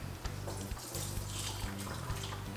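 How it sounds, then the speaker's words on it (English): Water poured out of a container in a kitchen while a charcuterie board with buffalo mozzarella is being prepared, a steady close splashing stream running continuously without pause. "sorry, I gotta pour out the water."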